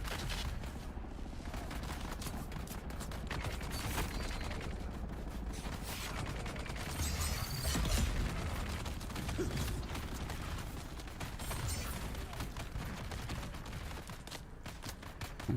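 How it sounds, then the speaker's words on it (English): Gunfire aimed at the player in Dune Awakening's deep desert, dense rattling bursts and clicking mechanical shots layered continuously, loud and busy without pause. "Come on, stop shooting me."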